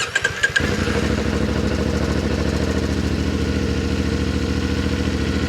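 A CFMOTO Ibex 450 motorcycle engine cranks in a few quick bursts, catches, and settles into a loud, steady, close idle with an even thrumming pulse.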